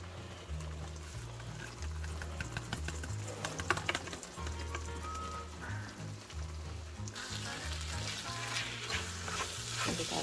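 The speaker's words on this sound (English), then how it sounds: "let the rice fry a little bit before we add the vegetables" Rice with fried rice seasoning mix frying in a pan, a steady close sizzle with clicking stirring scrapes throughout, and a brief shift in texture partway through.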